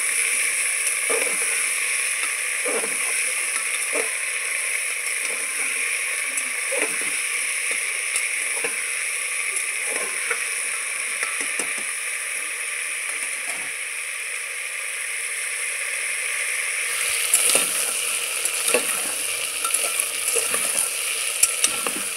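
Cut and washed potatoes frying in a pan while being stirred, a bright constant sizzle with repeated spatula scrapes and knocks, getting louder and more active near the end, with no voices.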